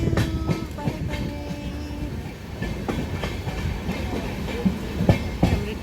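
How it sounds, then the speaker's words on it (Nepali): A passenger train runs along the track, heard from inside a carriage as a steady rumble with rhythmic clacks and squeals, close and continuous. "हाम्रो ट्रेन यस्तो छ"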